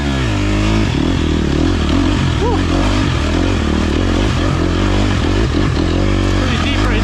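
A dirt bike ploughs through deep mud puddles during a gnarly off-road race, its engine loud and close with steady revving and clattering throughout.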